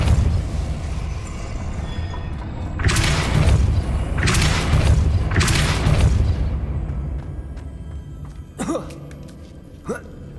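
Depulso repulsion spell cast in Hogwarts Legacy, three loud broad bursts of whooshing force a second apart over a constant low game ambience, followed by two sharper short impacts.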